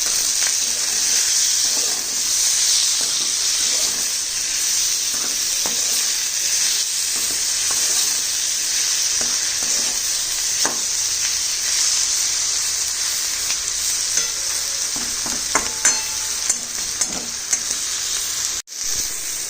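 Spices and salt sizzle and fry in a pan for butter mushroom, with a steady loud hiss and scattered scraping stirs throughout, then a brief dropout near the end.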